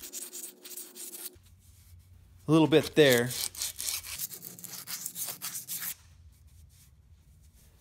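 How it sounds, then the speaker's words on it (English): Hand sanding cured JB Weld epoxy on a Toyota 4x4 front axle steering knuckle with 80 grit sandpaper, close rasping strokes in uneven bursts, with a voice speaking briefly over it. "So I'm gonna knock those down first with some 80 grit."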